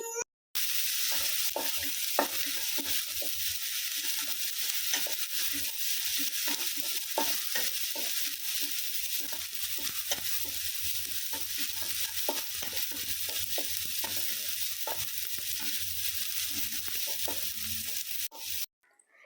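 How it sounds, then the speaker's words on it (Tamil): Chopped tomato frying in a pan for masala idli, a soft, even sizzle under frequent spatula taps and scrapes for nearly the whole stretch, quiet and close, with no talking. "நான் சின்னதாக ஒரு தக்காளி எடுத்திருக்கேன். ஸோ அதுவுமே சின்னதாக கட் பண்ணிவிட்டு நம்ம அதில் சேர்த்துக்கலாம். அதை சேர்த்துட்டு நல்லா ஃப்ரை பண்ணிக்கலாம்."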